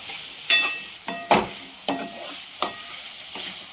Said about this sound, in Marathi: आता सर्व गोबी आपण सगळ्या मसाल्यातून परतून घेऊ.